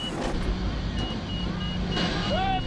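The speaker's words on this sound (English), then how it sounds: "I'm hearing the alarms." A crane overload alarm beeps in thin repeated tones over steady heavy engine rumble during a highway wreck recovery, the beeps faint and partly masked by the truck noise.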